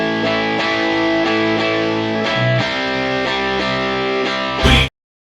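Multitracked distorted electric guitars playing crunchy, twangy rock chords in a steady rhythm, loud and upfront, then stopping abruptly near the end.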